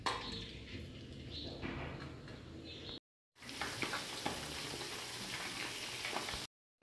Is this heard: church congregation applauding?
no